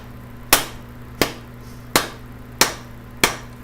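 Five evenly spaced hammer whacks ring out while an axe is being finished, each a sharp close strike with a brief ringing decay, over a low steady hum.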